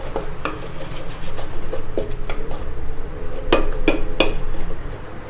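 A utensil scrapes and stirs butter and flour in a pan for a vegetable lasagna, giving continuous rubbing and scraping with several sharper metallic clinks against the pan, close and fairly loud.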